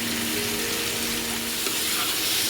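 Raw mango pieces fry in oil in a wok with a loud, dense sizzle and stirring scrape, continuous and close throughout.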